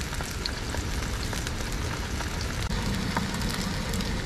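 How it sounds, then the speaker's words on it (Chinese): Deep-sea fish frying on an oiled iron griddle, a steady dense sizzle and crackle running continuously at close range with no talk over it. "这个鱼煎一会儿它会出油的"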